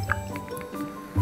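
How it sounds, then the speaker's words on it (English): Beer poured from a home CO2 carbonation setup into a glass gives soft wet fizzing and dripping with small squishy pops, close up under a steady background hum. "pour myself a glass of beer"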